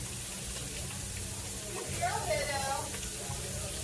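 Vegetables sautéing in a pan for keto fried rice, a steady, soft sizzle and hiss that runs throughout, with brief faint voice sounds partway through.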